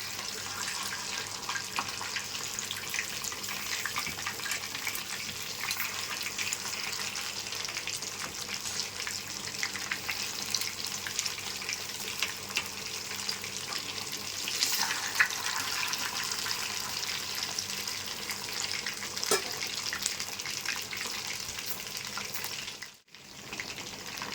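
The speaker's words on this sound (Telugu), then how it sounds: "ఒక పక్కకు వేగిపోయిందండి ఇంకో పక్కకు తిప్పుకున్నాం" Freshly caught river fish fry in a pan after being flipped, producing a steady, even hiss of hot oil that continues unbroken and drops out only briefly just before the end.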